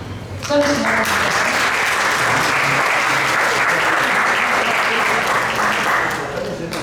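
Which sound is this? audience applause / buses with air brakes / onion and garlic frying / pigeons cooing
audience applause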